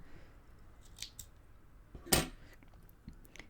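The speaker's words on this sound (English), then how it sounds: "And then I'm just gonna cut my yarn" A single close snip of scissors cutting knitting yarn, a sharp crisp cut standing alone amid faint handling noise, no talk.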